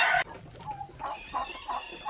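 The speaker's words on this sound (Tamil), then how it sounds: "வெளில கருப்பு இனத்தில் கோழி," Black-breed chickens outdoors on a poultry farm, several short clucking calls in a loose rhythm after a brief burst of noise, moderately close with no talking.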